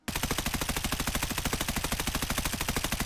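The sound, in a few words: gunfire from a scoped gun in a video game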